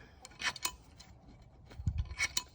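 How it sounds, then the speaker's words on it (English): Wrench loosening a bolt at the top of a Porsche 997 Turbo rear PCCB brake, a few quiet metallic clicks and scrapes in short bursts against near silence. "Loosening the bolt up top"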